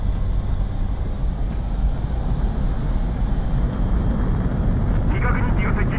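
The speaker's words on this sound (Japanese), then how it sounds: "風向130度、風速18ノット、離陸に支障なし。 メビウスワン、離陸を許可する。" Fighter jet taking off in the video game Ace Combat 7, a loud steady roaring engine rush with a broad constant wash, while radio-style game voices talk over it.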